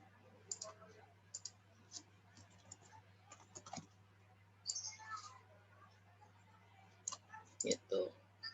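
Keys on a computer keyboard are tapped in quiet, irregular bursts of sharp clicks, with brief soft voice sounds between them.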